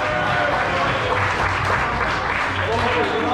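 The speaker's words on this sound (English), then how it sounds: "Everybody, round of applause," Applause from a corporate Christmas party audience, welcoming the official timekeeper, Oliver: a dense, steady wash of clapping that holds at an even level for the whole stretch, with crowd murmur mixed underneath.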